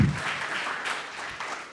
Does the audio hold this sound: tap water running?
no